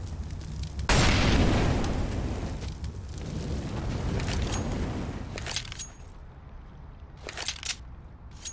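An incendiary grenade lands and bursts in CS:GO on the Overpass map, giving a sudden loud whoosh at about one second that settles into a long crackling roar of flames, followed later by a few sharper bursts.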